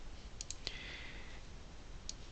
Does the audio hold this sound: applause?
no